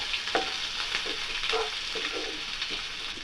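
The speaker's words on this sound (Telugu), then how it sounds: "ఇందులో మనం కట్ చేసి పెట్టుకున్న ఆనియన్స్ ఇవన్నీ కలిసినట్టుగా త్వరగా వేయించుకోవాలి" Chopped onions fry with bay leaf and spices in a pan for a mushroom masala curry, a soft, steady sizzle broken by light stirring scrapes, close and fairly quiet.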